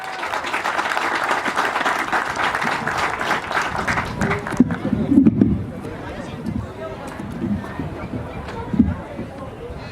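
A crowd at the 30th Australian Sikh Games in 2017 applauds a guest dignitary. The clapping is full and lively for about four seconds, then drops away as a voice begins speaking over a quieter hall.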